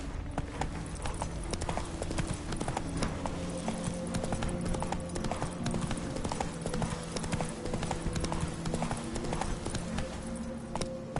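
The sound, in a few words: horse Roach trotting in video game The Witcher 3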